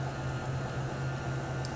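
Blender whirs steadily as it mixes cake batter with three eggs, a constant low motor hum with airy noise, close and even throughout the short stretch, without any talking.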